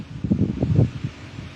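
Wind blowing outdoors, gusting in low, rumbling buffets against the microphone for a second or so before easing off.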